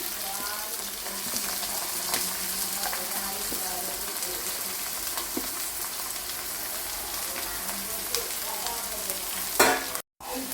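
Carrot, capsicum and beans sautéing in a pan for noodles, a dense continuous sizzle with stirring scrapes and clatters throughout, close and loud, with a brief dropout near the end.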